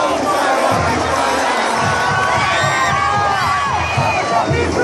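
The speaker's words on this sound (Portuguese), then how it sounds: "Rebentou a torcida da Mauá!" Coritiba football supporters roar and cheer in a packed stadium during a 2014 match against Atlético-PR, a loud, continuous crowd din with shouts and whoops rising above it.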